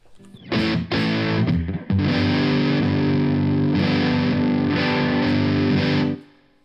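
Distorted electric guitar chords ring out through effects pedals, a few short strums followed by long sustained, heavily processed chords that fade at the end.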